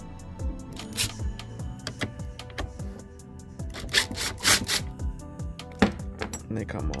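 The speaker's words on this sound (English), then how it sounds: "I'm using this 5 and 32 size socket." Ratchet socket work on OEM side mirror bolts of a 2005 Silverado, with repeated close mechanical clicks, scrapes and metallic rubbing in irregular bursts, some louder knocks near the end.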